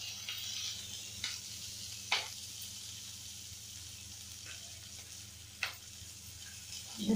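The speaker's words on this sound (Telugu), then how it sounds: "ఇప్పుడు ఉల్లిపాయలు వేస్తున్నానండి." Onions dropped into hot tempering oil for a mixed vegetable curry give off a soft, steady sizzle, fairly quiet and close, with a few scattered clinks and scrapes of a spoon and no talking.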